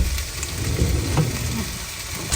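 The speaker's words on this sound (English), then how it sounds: "My veg is cooking nicely" Vegetables frying in a pan, a steady close sizzle with faint crackle and soft stirring, continuous and alone.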